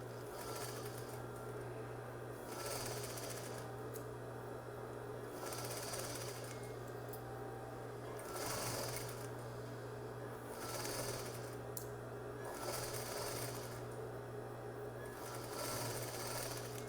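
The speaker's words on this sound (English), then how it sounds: "I'm going to stitch this whole side at 1/2 inch" A sewing machine stitches a half-inch seam on a messenger bag strap in repeated bursts of rapid needle chatter over a steady motor hum, quiet and close, with no talking.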